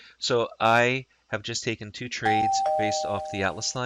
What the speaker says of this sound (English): That doorbell sound you just heard is the audio alert for the strength trades that just appeared